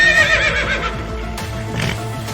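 A burdened horse gives a loud, high whinny followed by hoof clip-clop and a snort, close and clear with no one talking.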